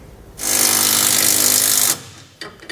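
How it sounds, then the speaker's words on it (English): A power tool, likely an impact wrench with a 19 mm socket, runs in one steady burst of about one and a half seconds while tightening TorkLift tie-down hardware on a 2015 Ram 3500, then stops and leaves a few faint clicks. "We'll use a 19 millimeter socket and wrench."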